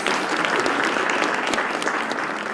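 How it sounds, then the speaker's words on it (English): Audience at a youth month launch event applauding, a dense, even wash of clapping with sharp individual claps standing out, steady and fairly close throughout. "Another round of applause, please."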